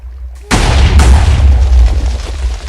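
A sudden loud boom erupts after a brief quiet, followed by a second blast and a rumbling, decaying roar of cannon fire in Minecraft.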